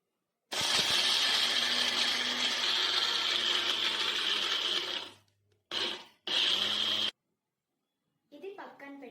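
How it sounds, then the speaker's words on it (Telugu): A kitchen mixer grinder whirs loudly, grinding Oreos and pistachios for about four and a half seconds, then fades. Two short pulses follow, then a brief, softer rattle near the end. "పిస్తాషియోస్ని దీనిలో వేసుకొని మిక్సీ పట్టేసుకుందాం"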